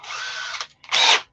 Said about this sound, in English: Okay, drill.